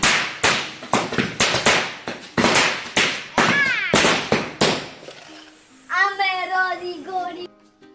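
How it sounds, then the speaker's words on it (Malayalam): Firecrackers burst in a rapid series of loud sharp bangs during a Vishu celebration at an ancestral family home, then the blasts stop and a few people's voices carry over the quieter background. "കാര്യമായിട്ടുള്ള പടക്കം പൊട്ടിക്കലാണ് ഇപ്പോൾ നടന്നുകൊണ്ടിരിക്കുന്നത്."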